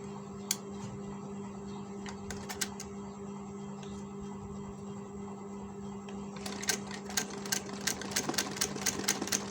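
A sewing machine stitches the collar placket of a men's kurta. A steady motor hum carries sparse ticks, then a quick run of rhythmic stitching clicks near the end.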